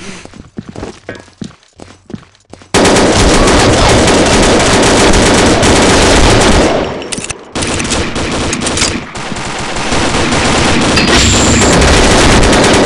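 Sustained automatic gunfire as covering fire in the Combat Arms shooter game, a few scattered shots at first, then a loud, dense, continuous burst of rapid fire with a short lull midway before it resumes.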